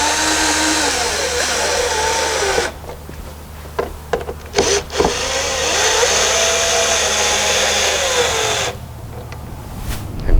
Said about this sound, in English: And then I use my machine to screw.